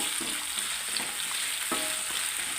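Shallots sauté over a full flame in a pan, making a steady close sizzle with a few brief scrapes of stirring, moderately loud and without talk.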